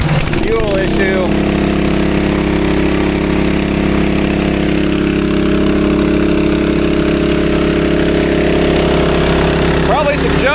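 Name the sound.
small engine running rough from a fuel issue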